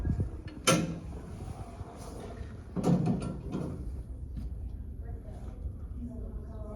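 An elevator car door in a rescue training setting is released and slid open, with sharp mechanical clunks and scraping rattles at two points, then quieter shuffling and creaks continuing at a low level.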